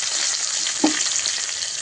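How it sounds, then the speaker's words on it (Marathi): Cumin, turmeric, coriander and curry leaves sizzle in hot oil for a village-style bean pod curry, a loud, steady frying hiss running throughout with one brief stir or clink near the middle. "1 चमचा जिरे घालून घेऊया, हळद घालून घेऊया, कोथिंबीर कढीपत्ता घालून घ्यायचा आहे।"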